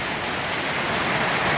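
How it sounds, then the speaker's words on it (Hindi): Light rain falls in a steady, even hiss that holds fairly loud throughout, alone with no talk. "तो एक बहुत अच्छी सी बारिश"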